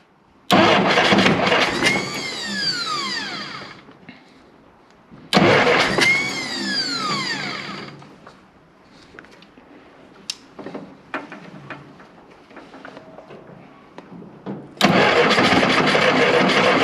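A Jeep Willys engine is cranked with the ignition on: two loud, whining starter bursts of a few seconds each, separated by quieter clatter, then a third burst begins near the end.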